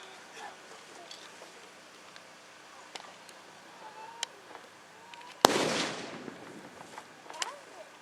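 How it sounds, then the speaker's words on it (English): A single hand grenade thrown into a shell hole during a close-assault weapons demonstration bursts with one sharp, loud blast and a brief rumbling tail, against quiet outdoor background and scattered faint sounds. "toss his grenade into that shell hole in front of him"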